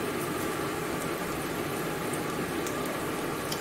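Peanuts frying in a pan give off a steady, even sizzle, like a constant hiss with no clear breaks, and no one speaks.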